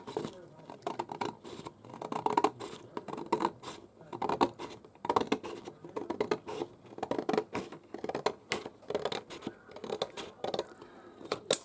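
Scissors cutting paper for an album craft, a series of close, crisp snipping and scraping strokes in an uneven rhythm, with quiet speech faintly beneath.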